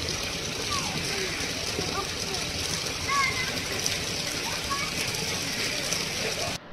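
Water rushing out of a dam on the Indravati River, a broad continuous roar and splash with faint clanking mechanical ticks mixed in.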